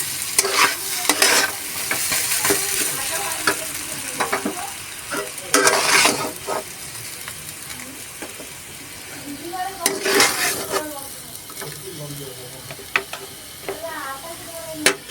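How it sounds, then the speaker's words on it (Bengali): Spiced potato filling for bread pakora is stirred in a pan, with a spoon scraping and clinking against the metal over a soft sizzle, close and fairly loud, with brief bursts of talk. "আলুর মধ্যে মশলাটা মাখানো হয়ে গেছে এবার আমরা নামিয়ে নিচ্ছি"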